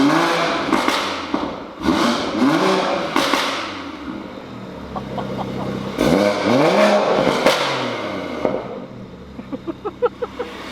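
A stage 2 tuned BMW M140i engine cranks and fires, then revs in several sharp bursts close by, settling to idle with a faint clattering tick near the end.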